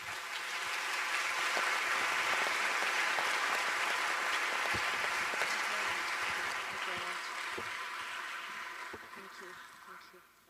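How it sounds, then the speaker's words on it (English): A conference hall audience applauds its speakers with a sustained, even roar of clapping that holds steady for several seconds before gradually thinning out and fading at the end. "Please give your big applause for our speakers."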